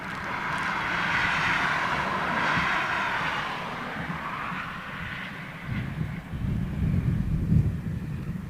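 A Canberra jet aircraft roars past at an airshow, a loud, broad engine rush that swells and slowly fades, with wind buffeting the microphone toward the end.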